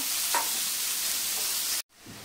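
Finely chopped onions, three large ones, hiss and sizzle steadily in hot oil in a pan while being stirred, a continuous close frying noise that cuts off abruptly near the end before faint sizzling resumes.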